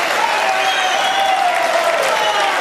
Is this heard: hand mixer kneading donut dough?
no